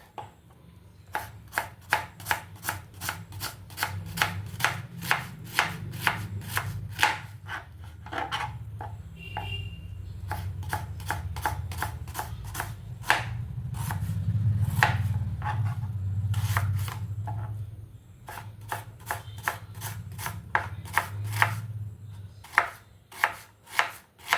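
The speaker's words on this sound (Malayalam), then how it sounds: "തക്കാളിയിട്ട ചെമ്മിച്ചാറ് താളിക്കാൻ വേണ്ടിയുള്ള സവാള അരിഞ്ഞെടുക്കാം" Knife chopping onions on a board for a prawn and tomato curry, a steady rhythm of sharp, close cuts that pause and restart, with a low background hum underneath.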